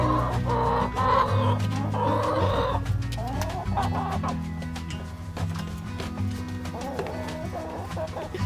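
Backyard homestead chickens cluck and murmur in a steady, close chorus, with occasional louder squawks and a low hum beneath, while a voice briefly speaks among them.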